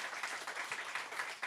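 Applause from a church congregation, a short burst of many hands clapping steadily at a moderate level with no talk over it.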